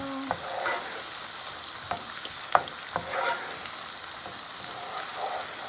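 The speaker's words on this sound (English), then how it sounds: "Now let's these onions caramelize in the butter." Onions caramelize in butter in a pan with a steady gentle sizzle, punctuated by several sharp utensil taps and scrapes against the pan.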